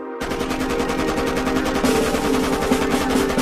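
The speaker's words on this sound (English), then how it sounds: "he had invented the machine gun" A Maxim machine gun fires a sustained rapid burst, a loud continuous rattle of evenly spaced shots running unbroken for several seconds.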